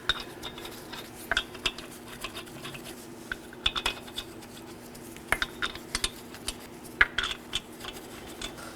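Metal lug nuts threaded by hand onto the front wheel studs of a 2018-2024 Chevrolet Equinox 1.5L, giving scattered light clinks and taps over a quiet, steady background hum.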